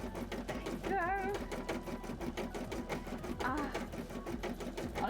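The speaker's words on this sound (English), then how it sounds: "at least the embroidery machine tells me when it's going to run out of bobbin" A home embroidery machine stitches a beaded cosplay piece, its steady mechanical needle chatter running throughout, with a voice talking over it.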